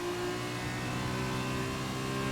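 Formula 2 race car engine in a sim racing game at the French circuit, a steady high-revving whine held at full throttle out of the last corner, loud and continuous.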